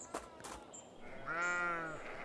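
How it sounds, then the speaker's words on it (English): Sheep in the farm video game Scarlet Deer Inn give a single drawn-out, wavering bleat at moderate loudness, preceded by a few soft clicks and a faint bird call, with no talking. "Rolling meadows and cute sheep."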